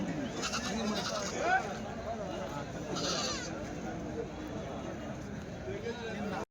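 Goats bleat now and then amid a noisy outdoor crowd at a weekly goat market in Kadiri, with people talking throughout.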